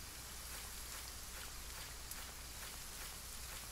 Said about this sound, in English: It's already raining, Trent.